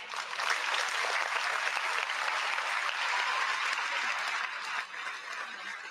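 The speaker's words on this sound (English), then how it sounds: "Round of applause" A steady round of applause from an audience, a dense continuous patter of many hands clapping at moderate level for several seconds.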